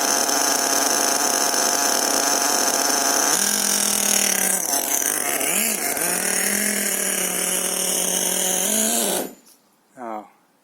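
A 4.6 nitro engine on an HPI Savage X RC truck idles loudly and steadily with a harsh, buzzing rasp, wavering slightly in pitch before it cuts out near the end.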